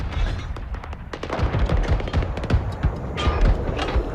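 Huge German Krupp cannons firing one-ton shells at fortresses in the First World War, a dense, rattling barrage of repeated sharp blasts and booms at close range, with no talk.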